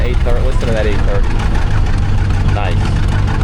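An 830 tractor engine runs at a steady, throbbing low rumble while lined up for plowing at the Half Century of Progress Show in Rantoul, Illinois; someone talks over it.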